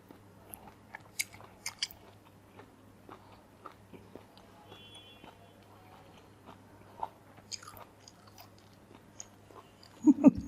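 Someone chews cup noodles during an eating challenge, with faint, close, soft crunching and munching bites scattered throughout and a louder burst near the end.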